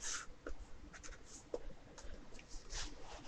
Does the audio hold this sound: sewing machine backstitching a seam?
no